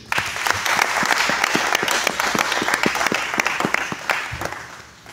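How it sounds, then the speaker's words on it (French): An audience at an artist's press conference breaks into sustained applause, dense clapping close and loud that fades toward the end. "si on peut applaudir s'il vous plaît"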